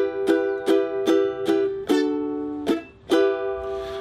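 A ukulele plays a signature line, with about eight bright, evenly spaced plucked strums ringing out close and clear, and no talking.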